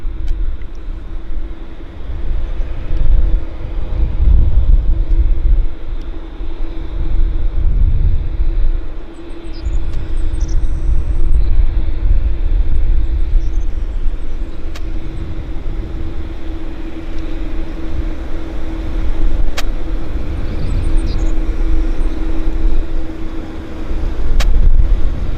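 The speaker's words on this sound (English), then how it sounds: "And here's our Montreal flight taxiing." An airliner bound for Montreal taxis at Vancouver airport, a loud low rumble swelling and easing in waves with a steady engine hum underneath, heard at a distance outdoors, with faint brief higher whines.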